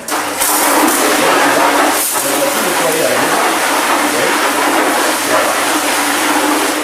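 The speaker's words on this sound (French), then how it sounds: "Tiens, lavez la voiture, la moto, messieurs, dames, voilà un Karcher." A Kärcher pressure washer runs, used for cleaning cars, motorbikes and house walls: a loud, steady motorized roar and spray hiss that holds for the whole stretch while a person talks over it.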